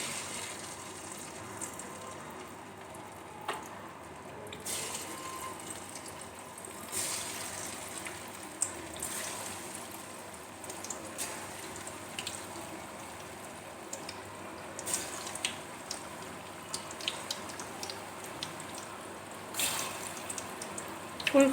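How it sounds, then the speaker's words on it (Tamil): Cabbage bonda balls deep-fry in hot oil with a continuous soft sizzle and crackle, scattered pops rising out of an even bubbling hiss. "இப்போ இந்த பால்ஸ் ஒவ்வொன்றா வந்து ஆயிலில் போட்டு ஃப்ரை பண்ணி எடுத்துடலாம்"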